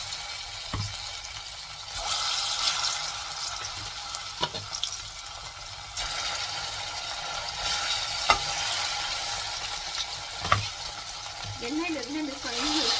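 Pieces of taro root (seppankilangu) fry in hot oil with a steady, close sizzle and bubbling, broken by occasional stirring knocks and clatter.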